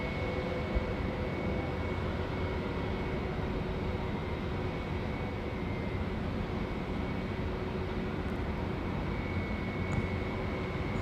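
A Jetstar airliner at Auckland Airport begins its takeoff roll, a broad, steady distant engine roar holding evenly throughout without speech.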